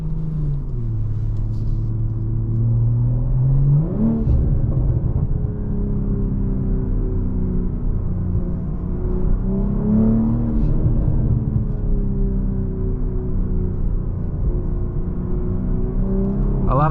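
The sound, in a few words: 2023 BMW M440i Coupe engine revving in Sport Plus mode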